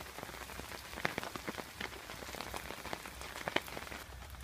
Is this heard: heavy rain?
yes